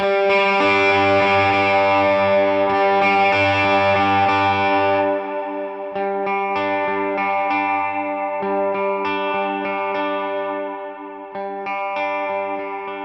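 Distorted electric guitar chords from a Les Paul Jr. at full volume and tone, through a lead gain channel with heavy reverb, ring out loud and sustained, with a brief dip in the middle before the strumming continues.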